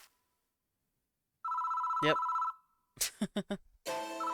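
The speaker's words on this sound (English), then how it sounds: "But the ringing doesn't stop." A telephone rings in a video game with a long steady electronic tone, then a rapid burst of shorter rings. A voice briefly speaks over it near the end.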